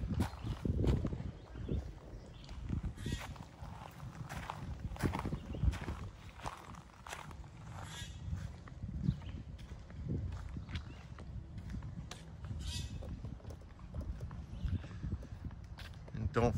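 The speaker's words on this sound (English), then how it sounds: "you have to pet the horse" A horse walks with a steady run of hoof clip-clops on the ground near a lakeside hangout spot, moderately close, while people talk over it throughout.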